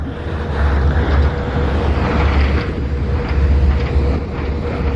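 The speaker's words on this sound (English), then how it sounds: "Really windy, and every now and then a piece of spray comes up." Strong wind roars across the open deck of a fast ferry crossing from Norway to Denmark, a loud, steady low rumble of wind buffeting mixed with engine and water noise for the whole span.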